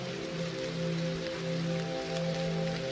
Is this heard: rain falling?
yes